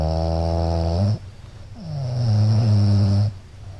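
A woman's recorded snoring, two long, loud, rasping snores close to the microphone, separated by a brief quiet breath.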